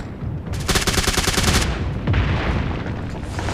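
A rapid burst of automatic gunfire in the video game PUBG Mobile, loud and close, followed by a few scattered shots and a lingering echo.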